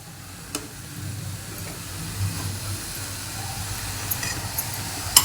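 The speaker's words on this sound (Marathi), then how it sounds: "ही खालची भाजीवर आणि वरची भाजी खाली झाली पाहिजे अशी छान मिक्स करून घ्यायची" Dill greens and mung beans stirred in a pan over a low gas flame, a soft continuous hiss and sizzle with faint scraping and a few light clinks of the spoon against the pan.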